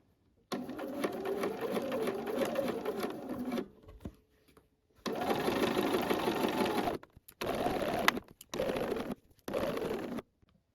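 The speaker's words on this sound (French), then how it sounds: "j'ai juste à piquer en plaçant mon pied le long du tissu. Et comme ça, vous avez donc votre couture à 5 mm." A sewing machine stitches a 5 mm seam on trouser fabric, running in several sustained bursts of steady whirring with short pauses between them, close and fairly loud with no talking.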